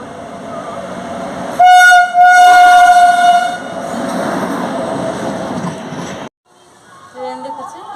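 Near a station, a train sounds a loud, sustained horn blast, then its passing rumble and wheel noise carry on until a sudden cut, followed by faint voices.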